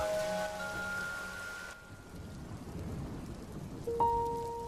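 Steady rain falls over an anime village, a dense, even patter with a low rumble beneath, joined by sustained musical tones at the start and again near the end.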